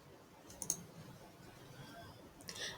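Mouse clicks on an online application form, a quick close pair of sharp clicks early on and another faint click near the end, over quiet room noise.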